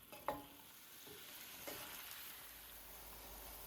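Tinda (round gourd) pieces with a spoonful of gram flour frying and being stirred in a pan, a soft continuous sizzle with a few clinks and scrapes of a spoon, fairly quiet and with no talking.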